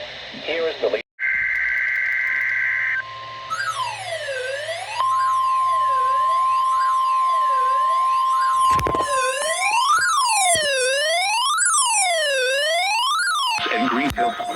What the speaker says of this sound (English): the National Weather Service has just activated the public warning alarm tone in the test of the